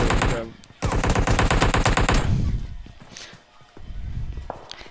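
Rapid automatic gunfire from a first-person shooter game, loud sustained bursts with a short pause, then scattered shots and footsteps as the firing stops, a voice speaking faintly under the game sounds.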